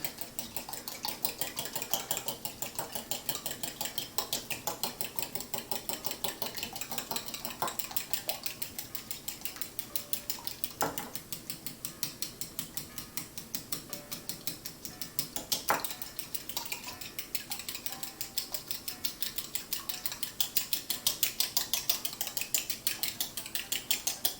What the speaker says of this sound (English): And whisk it. Whisk it good.